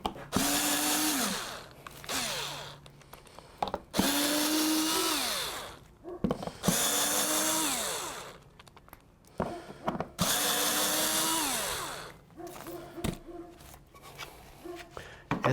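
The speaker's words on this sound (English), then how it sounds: "So let's take the screws out of that." A power drill backs screws out of an HDPE plastic pattern in repeated whirring bursts of a few seconds each, rising and falling in pitch, with short pauses between them and occasional clatter.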